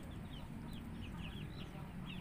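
Native chickens cluck softly and repeatedly inside a coop, a faint, continuous scatter of short calls over a low background hum.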